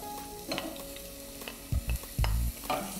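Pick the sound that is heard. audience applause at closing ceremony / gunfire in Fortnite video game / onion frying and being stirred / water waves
onion frying and being stirred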